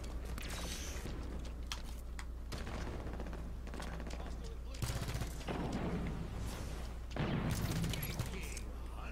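Light rifle fire in Halo 5 multiplayer, with bursts of shots and impacts that surge in several loud chunks amid busy game noise and some talking.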